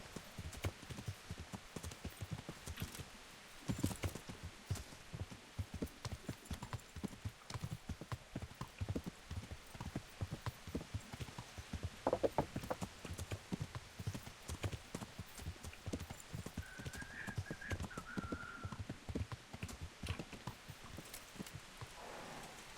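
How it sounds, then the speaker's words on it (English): Horse hooves clip-clopping steadily in the medieval game Kingdom Come Deliverance, a continuous close rhythm of hoofbeats over a faint patter like rain, moderately quiet, with no speech. "That horse is still there"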